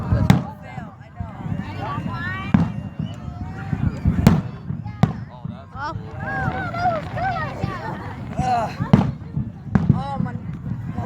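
Fireworks burst outdoors with a series of sharp, scattered pops and bangs, some loud and near, while a crowd chatters and exclaims throughout.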